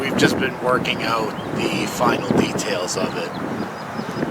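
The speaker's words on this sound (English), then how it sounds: "Excuse the wind." Strong gusts of wind buffet the microphone with low rumbling roar throughout, while a person talks over it outdoors beside a garden bed.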